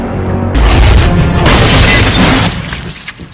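A loud explosion in a zombie movie scene: a sudden, heavy blast that surges into a sustained roar of debris and rumble, then tapers off over the last second.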